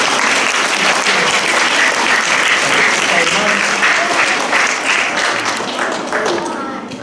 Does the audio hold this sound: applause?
yes